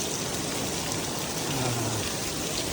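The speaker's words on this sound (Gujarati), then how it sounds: "હવે એમ લાગે છે કે વરસાદ આવ્યો" Steady rain hisses down evenly for the whole stretch, a dense, constant patter with no voices.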